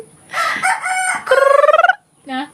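A rooster crows loudly and close by, one long cock-a-doodle-doo with a rapid warbling middle section, followed by a short separate cluck after a brief pause.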